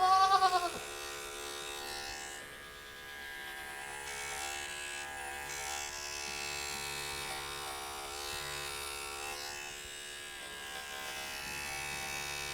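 Andis electric clippers buzz steadily as they shear a market wether goat, a close continuous motor drone with a goat's bleat at the very start.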